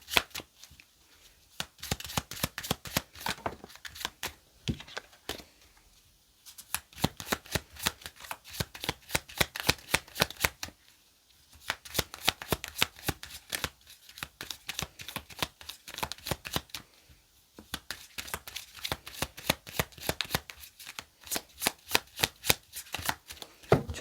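Tarot cards being shuffled in repeated bursts of quick riffling flutters, separated by brief pauses, close and clear with no talking.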